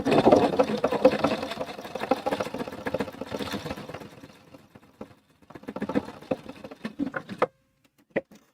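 A sewing machine stitches a pleather purse strap, first in a long steady whir that slows and fades, then in a few short start-stop runs before falling quiet.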